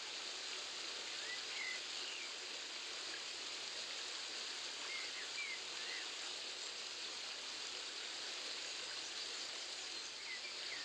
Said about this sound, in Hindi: जंगल में मीठे पानी का घूमना ताकतवर रैपिड्स गहरे तालाबों और डूबने वाले आबिशारों की तश्कील करता है।